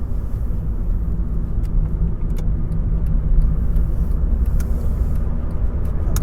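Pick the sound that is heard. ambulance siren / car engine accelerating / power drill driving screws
car engine accelerating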